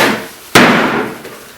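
A carpenter's hammer strikes a piece of wood once, a sharp loud knock that rings and fades over about a second, with a fainter second tap shortly after and no talk.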